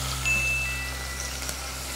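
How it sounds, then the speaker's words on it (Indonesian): Ingredients sauté in hot oil, giving a steady, moderate sizzle with a faint background hum and a few small crackles. "Kemudian aku mau kasih minyak dan ini akan saya tumis juga."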